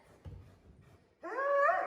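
A working dog in bite training lets out a close, faint high whimper that rises into a drawn-out whine, following a few soft low shuffles.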